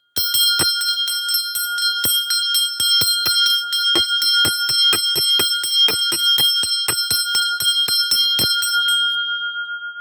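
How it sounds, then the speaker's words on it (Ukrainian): A large new bell struck over and over in a fast, steady rhythm, each loud clang ringing on and overlapping the next, with no voices. "Ви тільки послухайте, як він дзвонить."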